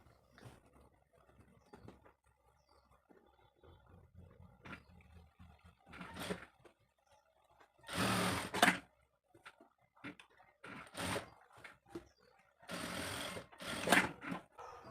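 A sewing machine stitches a shoulder seam on a co-ord set top in repeated bursts, its whirring runs starting and stopping close by and fairly loud against a quiet room.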